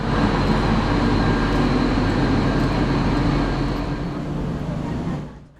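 A Tren Maya bi-mode diesel-electric passenger train rumbles past close by, a loud steady broadband roar with engine drone that holds, then fades away at the end.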